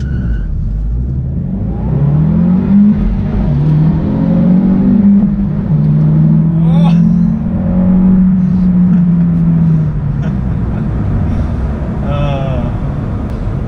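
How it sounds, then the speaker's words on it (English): A race car engine is held at high, steady revs before launch, droning loudly with slight wavering pitch, while people talk over it in the latter half. "He's holding the revs up."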